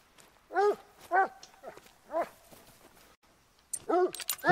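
A hunting dog in The Hunter: Call of the Wild barks a few times in short, fairly quiet bursts, with a pause before a final cluster of barks.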